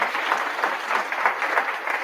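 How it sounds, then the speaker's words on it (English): Audience applause at a talk event, a steady patter of clapping hands from a moderate-sized crowd throughout, mid-distance and even in level. "Can we please just give a round of applause for her?"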